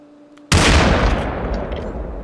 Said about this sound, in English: He's shooting at guys down there.